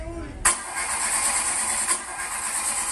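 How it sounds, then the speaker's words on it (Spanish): A small car's engine cranks and catches with a sharp burst, then settles into a steady bright idle, close and alone. "Déjame prender mi carrito."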